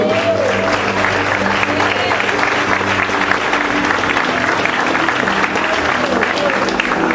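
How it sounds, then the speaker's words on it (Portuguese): Church congregation applauding a preacher, a dense, continuous roar of many hands filling the room at steady loudness throughout, with crowd noise mixed in. "Aplauda ele mais uma vez."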